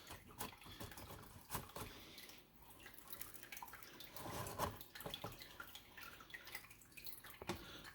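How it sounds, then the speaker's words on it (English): An aquarium gravel vacuum siphons water up from the gravel of a living room fish tank, giving close, continuous trickling and dripping with irregular splashy bursts and crunchy gulps. "We're going to do a couple little crunches down into the gravel and see how much stuff we can get coming up in this gravel vac."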